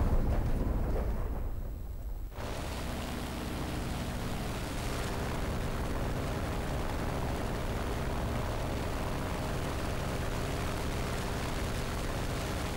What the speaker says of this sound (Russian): еще две 250-ки все-таки взорвалась